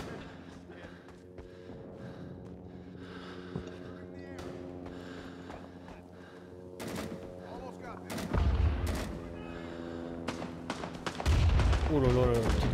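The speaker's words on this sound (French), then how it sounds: "Oh là là, petite grenade qui tombe là" Gunfire and grenade blasts in the Vietnam War shooter game Rising Storm 2: Vietnam, scattered shots building to heavy booming explosions near the end, with someone talking throughout.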